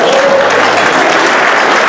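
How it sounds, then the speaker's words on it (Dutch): Audience applause at a carnival comedy show in Limburg, loud sustained clapping from a full hall, dense and steady throughout with a faint murmur of voices beneath. "luister, dit publiek, het is een geweldig applaus"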